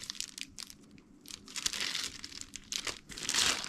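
A plastic rain guard wind deflector strip for a Ford Explorer is handled up close, giving quiet, irregular crinkling and crackling bursts with no talk.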